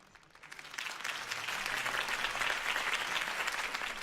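Applause from a crowd at a campaign speech in the video game Batman: The Telltale Series swells up quickly from quiet and then holds as steady, dense clapping.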